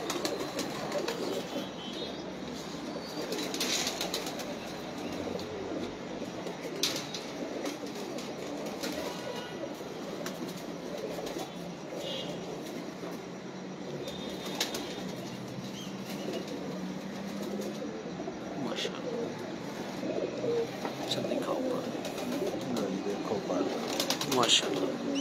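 Pigeons at a loft in Saman Abad coo and flap their wings, a steady bed of soft bird sounds with repeated bursts of wingbeats scattered throughout, under someone talking at length.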